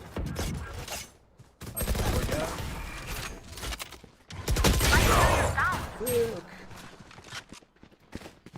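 Bursts of Reaper gunfire in a multiplayer shooter game, heavy rapid shots in two clusters with gaps between them, mixed with game sound effects and a player talking.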